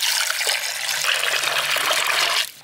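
Cleaned prawns coated in turmeric are rinsed under a running tap, a steady close rush of splashing water that cuts off abruptly near the end.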